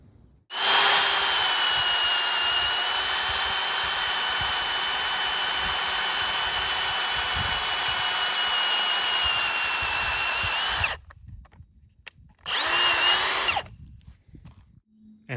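A Milwaukee M18 Super Hawg cordless drill whines at a steady high pitch for about ten seconds, then stops, then runs again in a short burst before stopping. It sounds close, loud and alone.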